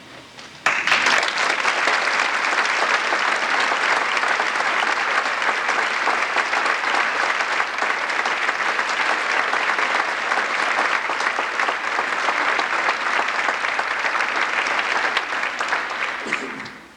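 A concert audience breaks into sustained, loud applause after a thank-you letter is read aloud, a dense wash of many hands clapping steadily for about sixteen seconds before tapering off at the end.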